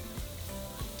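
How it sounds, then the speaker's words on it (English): Shrimp sizzle and fry in a hot pan for a molcajete mar y tierra, giving a steady, close crackling hiss with no one talking. "flip your shrimps over and let them cook for another couple minutes"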